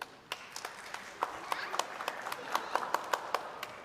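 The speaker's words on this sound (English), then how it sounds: "Clap if you ever did gymnastics." Scattered clapping from an audience asked to respond, with individual sharp claps picking up and quickening into a loose, uneven patter of a few hands.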